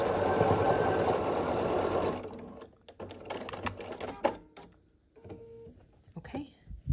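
A sewing machine runs steadily for about two seconds while stitching quilt block units together for a scrappy sampler block, then stops and gives way to softer handling noises and clicks.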